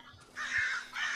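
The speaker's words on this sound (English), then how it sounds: "Oh, crows." Crows caw in a horror video game set in overgrown woods, a couple of harsh, drawn-out calls rising out of a quiet ambience, fairly close and clear with no talking.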